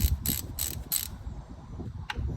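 A ratchet wrench loosens 10mm bolts in the engine bay of a 2011 Honda Element: three quick bursts of rapid clicking, then a single short click after a pause.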